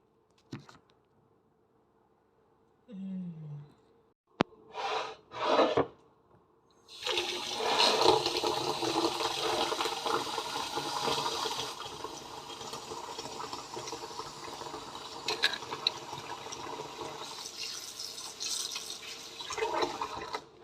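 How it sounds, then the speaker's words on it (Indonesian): Soybeans being washed for homemade tempeh: after a few brief knocks and splashes, water rushes and sloshes continuously in the container, a steady, fairly loud rinsing that lasts to the end. "kita start mencuci ya guys."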